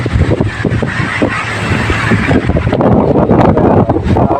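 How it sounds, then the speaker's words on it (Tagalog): Strong wind from a typhoon buffets the microphone in a constant, loud roar with gusty surges, nearby and unbroken, with no talking. "Grabe, lakas ang hangin."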